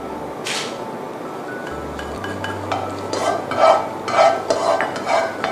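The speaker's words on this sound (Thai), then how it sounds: "มาถึงขั้นตอนการผัดนะคะอันดับแรกเราก็จะใส่น้ำมันลงไปนะคะ" Fish maw is stir-fried in a hot wok over a faint sizzle of a little oil, with a metal utensil scraping and clinking in irregular bursts.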